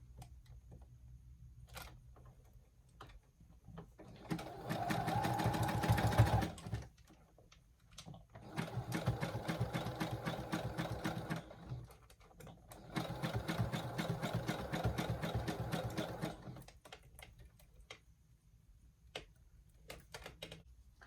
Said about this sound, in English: and begin to sew